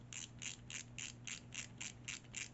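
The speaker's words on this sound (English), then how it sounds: "Yes, we will hear a lot of ratcheting now. We're using a ratcheting screwdriver from Wera" A Wera ratcheting screwdriver clicks in a steady run of about ten evenly spaced ratchet bursts, close and fairly quiet, with no talking over it.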